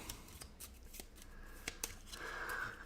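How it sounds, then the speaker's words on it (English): Building contract cards for the Nova Roma board game being shuffled, a soft rapid riffling that builds up and ends in a louder burst at close range, with no talk. "Shuffle the building contracts."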